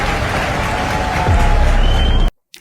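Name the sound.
audience applause in a played speech recording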